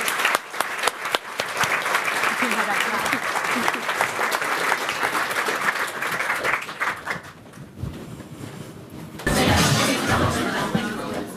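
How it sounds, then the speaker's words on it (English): Livestreamed leadership event audience clapping steadily for several seconds, with chatter and light laughter mixed in, then a dip before a fresh burst of louder clapping at the close. "Can everybody just give a massive round of applause for Hina?"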